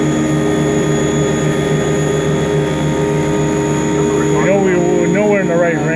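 A Haas CNC mill spindle cuts at 4600 RPM with a steady, loud whine carrying sustained tonal harmonics, while people talk over it near the end.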